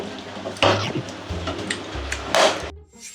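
Spoon scraping and clinking against a pot while lasagna sauce is stirred, with a soft simmering sizzle underneath and a few close, uneven knocks.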